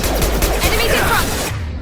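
Firefight in Mass Effect 2 with Blue Suns mercenaries and Vorcha, a loud rapid fusillade of overlapping gunshots under a voice before cutting off.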